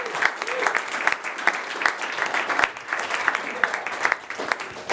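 A crowd at an evening talk on the energy sector gives a dense, even round of applause that holds steady throughout, with no break in the clapping.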